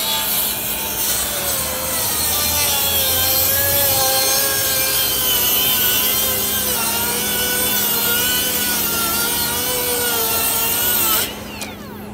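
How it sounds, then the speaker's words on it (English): Battery-powered saw cutting through three stacked sheets of 3/4 inch plywood, a loud, steady whining, rasping cut that runs nearly unbroken for about eleven seconds before stopping abruptly at the end. "I'm gonna go ahead and make a cut. This is 3/4 inch plywood,"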